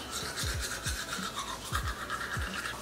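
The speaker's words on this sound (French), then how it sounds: "Je croque le dentifrice plusieurs fois et ensuite je viens brosser." Teeth being brushed with a toothbrush after chewing toothpaste tablets in a morning routine, a close, steady scrubbing rasp with soft rhythmic strokes and no talking.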